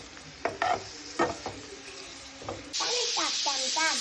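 Spice paste sizzles and is stirred in a hot pan for a home-cooked vegetable dish, with scraping stirs early on and then a sudden loud burst of frying that keeps crackling.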